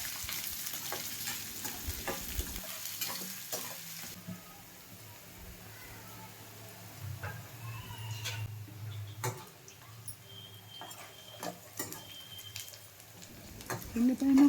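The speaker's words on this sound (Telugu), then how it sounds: "ఇప్పుడు ఇందులోకి తురిమి పెట్టుకున్న ఆనియన్ పీసెస్, చిల్లీ పీసెస్ వేసుకొని ఫ్రై చేసుకోవాలి." Grated onion and chili pieces frying in a pan for atukula upma, a soft sizzle with scattered spoon taps and clicks, fairly quiet and close.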